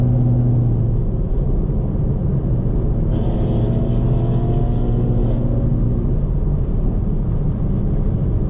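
A Camaro SS engine rumbles steadily while driving in the rain, a loud continuous low drone with a brief rise in pitch midway as it revs.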